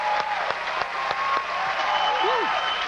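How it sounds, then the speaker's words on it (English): A live audience at a hypnotism stage show claps for a hypnotized woman: steady, fairly close applause with a few sharp individual claps and a brief cheer, under a host's voice. "Give that lady a nice big round of applause."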